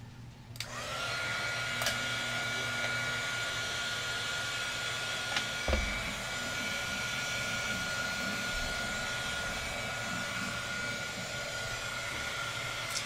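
A heat tool blows steadily over embossing powder to set it, a loud continuous hairdryer-like whoosh with a hum that starts abruptly and runs throughout, with no talking.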